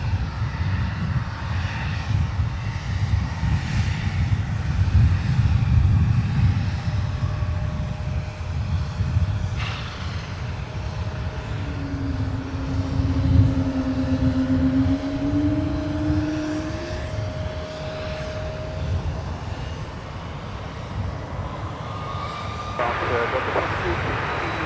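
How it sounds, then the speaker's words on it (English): A CRJ 900LR jet at Minneapolis–St. Paul Airport gives a broad, sustained engine roar that swells and holds for the full length, with a faint tonal whine riding on top and distant outdoor ambience. "let's show some love for the CRJ"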